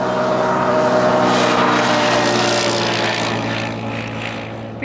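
ATV engines passing on a busy road during hunting season near Rankin Inlet, a steady loud droning motor hum with no talk.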